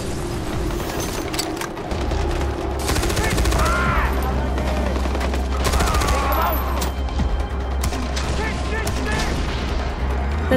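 Mounted guns in Far Cry 4's Valley of the Yetis fire steadily at attackers in a sustained, dense barrage of rapid shots at night, with someone talking over the shooting throughout.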